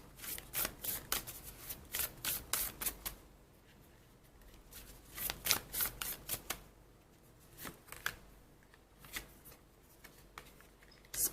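Tarot cards being shuffled in repeated quick riffling bursts, soft and close, with brief pauses between bursts and no talking.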